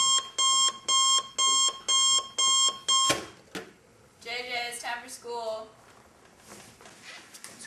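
An alarm clock beeps loudly in six quick regular pulses, then stops abruptly with a clunk, followed by a voice speaking.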